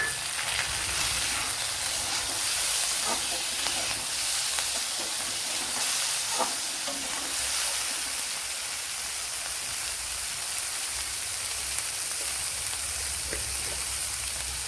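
A small tomato added to a hot pan and stirred while cooking rava uppumavu gives off a continuous close sizzle, with faint scraping and clinks of stirring and no speech.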